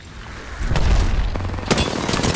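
Gunfire in the Apex Legends battle royale, loud booming shots and bursts that erupt about a third of the way in and continue densely to the end, with a sharp crack near the two-thirds mark.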